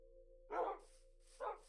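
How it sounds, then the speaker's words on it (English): Two separate dog barks from the video game Minecraft, spaced about a second apart, come over a faint steady hum at a soft, distant level. "Where's the dogs? The dogs are all just chilling out here."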